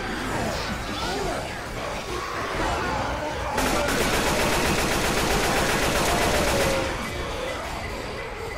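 Sustained rapid automatic gunfire in Left 4 Dead 2, a team of players unloading on the Tank, loud dense bursts building to a continuous rattling barrage amid chaotic game noise.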